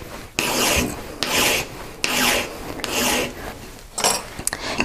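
A file rasps back and forth over excess solder on a metal ring in steady, even strokes, close and fairly loud, about six passes with short gaps between them.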